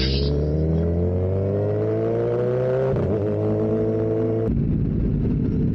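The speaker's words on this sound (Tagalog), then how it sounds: "may tricycle na naninipa." A motorized tricycle engine revving and droning loudly on a busy town street, pitch climbing steadily before dropping off abruptly near the end.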